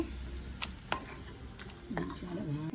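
Oil sizzling and spitting in a pan as spices are tempered, with a few sharp crackles and scrapes, steady frying underneath, no talking.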